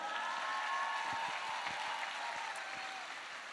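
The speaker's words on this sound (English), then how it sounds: "give a big round of applause for Jonathan." An audience applauding in a steady, even patter of many hands, soft and somewhat distant, holding throughout.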